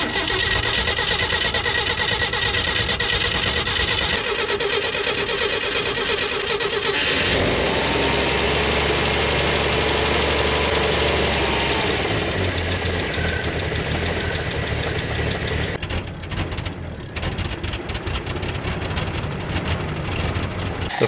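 Jeep engine running with a carburetor whose float bowl overflows, a loud rough idle that shifts in tone partway through, with a deeper low rumble for a few seconds before settling back.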